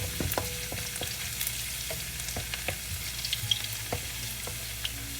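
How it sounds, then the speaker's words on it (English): Ginger and garlic fry in hot oil in a pan, giving a continuous crackling sizzle dotted with sharp pops and occasional stirring scrapes, close up and moderately quiet. "I'm going to add in my ginger and garlic. I'm going to allow it to fry a little bit."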